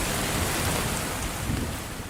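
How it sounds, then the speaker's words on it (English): Heavy rain pours in a steady, dense wash with low rumbling thunder beneath it, loud and continuous throughout without any voices. "Very heavy rain and some thunder"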